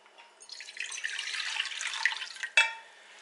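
Two cups of water poured into a cooking pot, a close bright splashing stream that builds for about two seconds, ending with a sharp clank as the pot or cup is set down.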